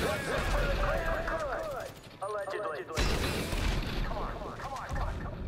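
Rockets and gunfire crash through a video game under a steady backdrop of booms, while excited voices talk and shout over the combat throughout.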